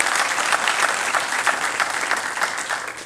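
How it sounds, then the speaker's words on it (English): Steady applause from an audience at a medical school white coat ceremony, a dense, even wash of clapping with no break. "So let's give her another round of applause."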